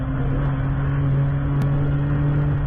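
GT race car engine with a high-RPM misfire, running at Road Atlanta during a WRL endurance race: a steady, loud, droning note held without pause and without voices.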